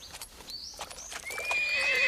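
A horse neighs in a rising, whinnying call, with faint hoof clip-clops and ambient noise underneath, fairly close.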